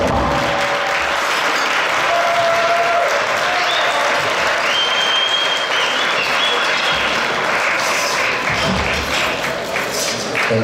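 Sustained applause from a large audience at a charity foundation's annual gala dinner and dance, a dense, loud wash of clapping lasting the whole stretch with a few voices and whoops mixed in.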